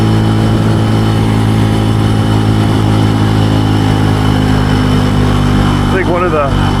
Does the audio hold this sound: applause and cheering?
no